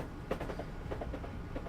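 A train rolls on rails in Train Simulator 2017 on a sunset run to Brighton, its steady rumble carrying faint rhythmic wheel clicks and clunks with no talk over it.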